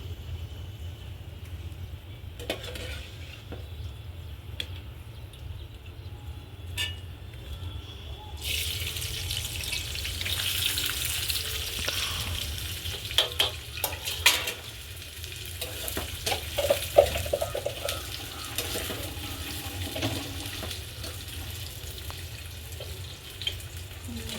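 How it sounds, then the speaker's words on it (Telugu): Onions are fried in a pan over a wood-fired village stove for dum biryani, starting as a faint background with scattered clicks before a steady close sizzle rises midway, broken by stirring knocks. "ఈ ఉల్లిపాయలు కూడా వేయించుకుందాం, ఫ్రై చేసుకుందాం."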